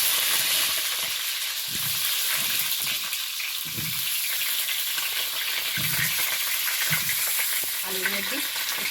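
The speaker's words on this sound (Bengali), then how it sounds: "কড়ার মধ্যে এবার একটু তেল দিয়ে দিচ্ছি আলুটা ভাজবো" Potatoes fry in oil in a wok, giving a steady, close sizzle throughout with occasional low scraping stir sounds.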